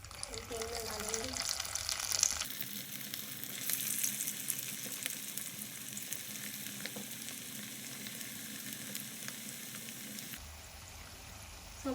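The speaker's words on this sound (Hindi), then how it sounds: "तो इस समोसा हमने तैयार कर चुके हैं। हम इसको फ्राई करते हैं।" Samosa rolls fry in hot oil with a loud, steady sizzle that fills the whole stretch, close up, shifting slightly in texture partway through as the oil settles.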